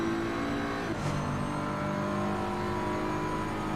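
GT3 race cars battling for position in the racing game Assetto Corsa Competizione, with a steady, loud engine drone holding throughout and a brief shift in pitch near the one-second mark.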